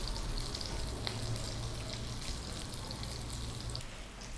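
Rissoles frying in a frying pan, a continuous dense sizzle and crackle with small pops, steady and moderately loud throughout with no talking.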